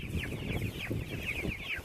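Chickens on pasture clucking and murmuring together in a flock, a steady run of close clucks over low outdoor rumble, with no voices.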